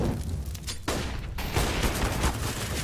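Grenade blasts in Counter-Strike on the Inferno map during a DreamHack Winter 2020 match, a dense run of loud booming and crackling impacts with a sharp burst near the middle and rumbling debris continuing throughout.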